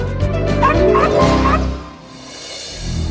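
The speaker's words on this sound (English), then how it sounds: "the world's second smallest dog is Buddy's sister, Monica." The world's second smallest dog gives a few quick, high-pitched yips and barks in a close, loud burst, then the sound settles into quieter background noise.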